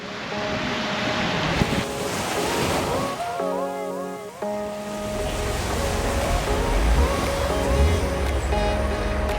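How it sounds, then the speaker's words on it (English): Mediterranean waves wash onto a Cyprus shore, with a steady sea breeze buffeting the microphone and a low rumble running underneath. Faint tonal sounds come and go in the background. "I am enjoying listening to the waves, watching the waters, and feeling that nice sea breeze coming off the Mediterranean"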